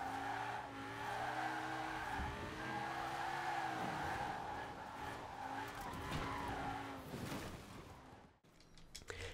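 Car in Forza Horizon 4, fitted with an engine swap, accelerating hard: a loud, sustained engine roar that climbs through rising gear pitches with shifts, tire noise mixed in, then cuts off abruptly near the end.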